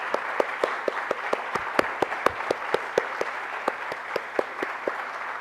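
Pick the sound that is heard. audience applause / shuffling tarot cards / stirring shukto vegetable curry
audience applause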